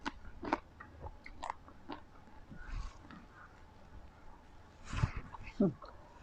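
A dog bites and chews, with scattered soft crunches and gnawing clicks close by, ending in a couple of louder bites, while a person talks quietly.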